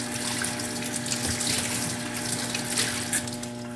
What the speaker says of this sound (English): So take it over to the sink, clear it of any top coat, rinse it out for a few seconds